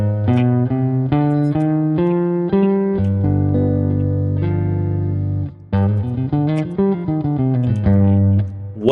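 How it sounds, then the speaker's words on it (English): A Phrygian dominant scale played on a distorted, effects-heavy electric instrument, loud sustained notes stepping up and down with a held tone in the middle, no voices. "Phrygian dominant. What the heck does this thing sound like?"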